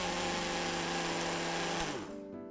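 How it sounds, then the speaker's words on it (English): An electric grinder jar whirs steadily at high speed, grinding bhakarwadi spice mixture to a coarse powder, then winds down and stops near the end, loud and close with no voices. "And now I'm going to grind this mixture to a coarse powder."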